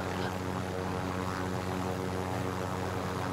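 Helicopter flying in the shooter game Warzone, a steady droning rotor and engine whir holding at even loudness throughout.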